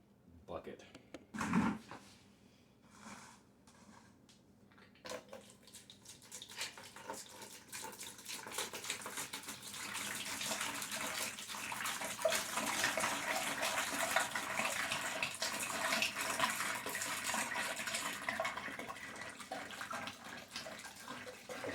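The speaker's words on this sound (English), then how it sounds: "And I'll fill it to the top, and I will add it to the bucket." Water runs steadily into a bucket being filled to the top for a yeast-based mosquito trap, a continuous rushing gush that builds and fills the space after a few knocks, with talk heard briefly near the start.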